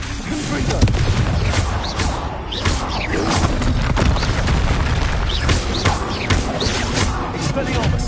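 Confringo fire spells exploding in a Harry Potter video game, a dense, loud barrage of booming blasts and sharp bursts that overlap continuously for several seconds.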